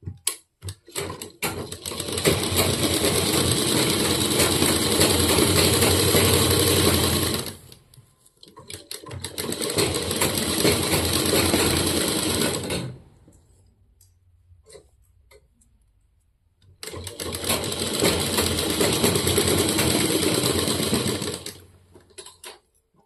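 A sewing machine stitches half pants in three long, loud bursts of rapid ticking, separated by short pauses and a quieter lull, heard close with no talking.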